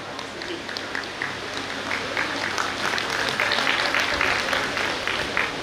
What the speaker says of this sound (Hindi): तत्पश्चात जोरदार तालियां बजनी चाहिए